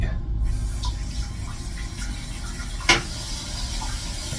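Water sprays at low pressure in a steady, soft hiss and trickle, with one brief splash or knock partway through, no talking.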